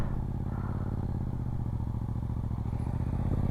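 A motorcycle engine chugs close by during a beginner rider's first practice session, a steady pulsing drone with a rapid firing rhythm. It stays loud and even throughout and no one speaks.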